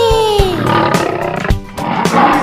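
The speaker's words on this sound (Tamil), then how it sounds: "குமுறும் சிங்கம் காட்டிலே" A lion gives a long, rumbling roar up front, set over rhythmic children's song music with no voices.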